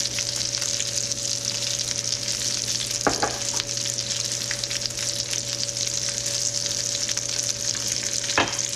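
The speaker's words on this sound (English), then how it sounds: "with my heat on fairly high, I'm going to sit and let this just brown on the outside" Chopped potatoes frying in butter with salt and pepper over fairly high heat, giving a steady, close sizzle throughout with a couple of brief scraping stirs and no talking.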